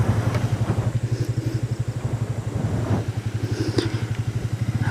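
A motorcycle engine idles close by with a steady, rapid low thudding pulse, its loudness evenly throbbing throughout, with occasional faint clatter and no speech over it.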